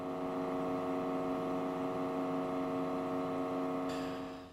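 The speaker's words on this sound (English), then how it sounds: "the computer is now about as loud as a jet engine" An overclocked Macintosh computer fitted with a Newer Technology PowerPump cooling upgrade runs very loudly, a steady whirring drone with a constant fan tone that continues unchanged, with a brief faint click near the end.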